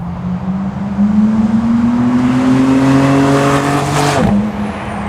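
A tuned Honda NSX engine with aftermarket downpipes, driven in sport mode, drones and rises in pitch as it accelerates from inside the cabin, loud and steady, easing off briefly near the end.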